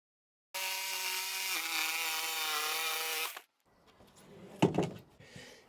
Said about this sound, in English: try to cut a straight edge with this jigsaw